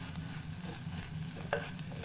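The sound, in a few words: sautéing egg masala in a pan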